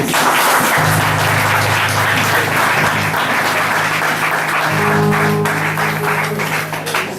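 Church congregation applause, loud and sustained throughout, with a low tonal hum running beneath the clapping.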